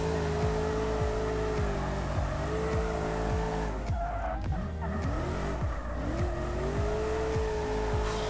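A car fitted with a Hellcat engine in the BeamNG driving game drones loudly and steadily, its pitch rising and dipping as it revs and shifts, with tire squeal and skidding around the middle.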